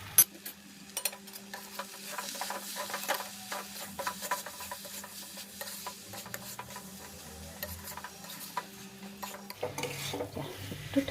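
A spatula stirs a waterless vegetarian cabbage curry finished with ghee and garam masala in a pan on a gas flame, producing faint, irregular scrapes and soft clinks at a close but quiet level.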